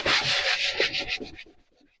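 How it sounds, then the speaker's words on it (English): An 80 grit sanding block rubs across wood in a few quick, close, raspy strokes that fade out after about a second and a half. "This is just like an 80 grit sanding block"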